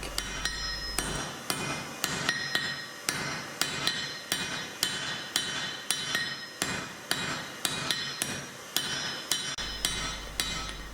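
A blacksmith hammers the neck of U-box tongs on an anvil, striking in a steady rhythm of about two blows per second, each a sharp ringing metallic clang, close and alone.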